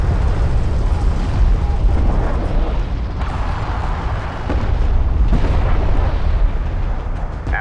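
Airstrike explosions in Homeworld: Deserts of Kharak roll on as continuous loud, dense booming and rumbling with a few sharper bursts, game voice callouts mixed over the top.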